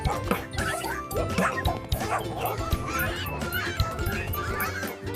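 Several quick dog barks and yips ring out over busy background music, close and fairly loud.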